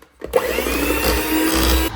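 Electric mixer beating Eskimo cake batter with vanilla just added, a steady whirring drone that starts abruptly after a brief silence and runs continuously, loud and close, before cutting off at the end.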